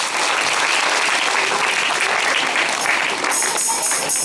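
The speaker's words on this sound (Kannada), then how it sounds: "ನಿದ್ದೆ ಮಾಡೋರೆಲ್ಲರೂ ಗಟ್ಟಿಯಾಗಿ ಒಂದ್ಸರಿ ಚಪ್ಪಾಳೆ ಹೊಡ್ರಿ." A church congregation claps loudly and continuously during a sermon, a dense wash of applause that holds steady and then fades slightly near the end.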